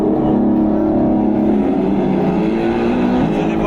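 Cadillac V-Series.R Le Mans race car engine revving loudly at the Montreal auto show, a close, sustained roar with a slight rise and fall in pitch.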